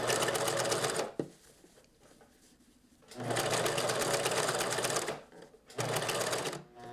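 A sewing machine runs a 1 centimeter seam allowance around a bolero garment, whirring loudly in two bursts with a quiet gap between them and a short third run at the end. No one talks.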